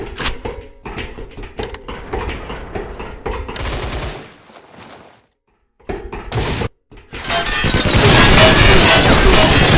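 Automatic weapon fire in the free first-person shooter Line of Sight comes in loud, rapid bursts. There is a brief lull near the middle before heavy, sustained firing resumes.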